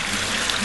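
Water pours from the outlet of a garden pond's cascade among pozzolana stones, a steady, full rushing splash that fills the whole moment with no voices.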